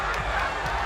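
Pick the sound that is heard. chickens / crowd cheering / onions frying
crowd cheering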